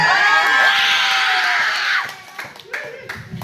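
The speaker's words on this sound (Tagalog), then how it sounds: "nais kong marinig sigaw yun, palakpakan" A loud crowd at a New Year's party shouts and cheers with clapping mixed in, a dense roar that drops off after two seconds into scattered voices.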